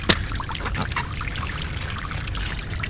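Water pours and trickles while palm fruit is washed, a close splashing stream with bubbling dribbles that runs continuously.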